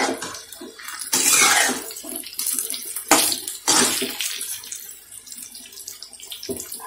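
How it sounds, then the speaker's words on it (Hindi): Pittha fries in hot oil with a loud, steady sizzling hiss that swells in surges and then gradually settles, heard close up with no speech. "फ्राई कर रही"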